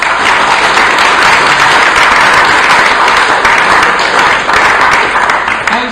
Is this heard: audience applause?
yes